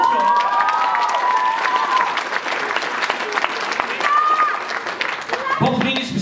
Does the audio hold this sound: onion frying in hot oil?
no